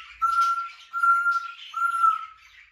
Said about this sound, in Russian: Вот они почему-то поют только в этой комнате, где орут попугаи волнистые.